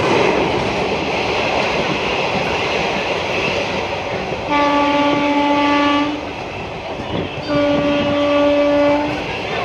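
A passenger train rumbles steadily along, loud and close, with two sustained horn blasts sounding partway through.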